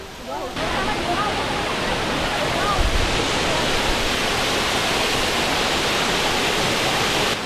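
Spring water rushes and splashes at Badiang Spring Resort in Bohol, a loud, constant broadband gush that starts abruptly and holds steady, close to the microphone.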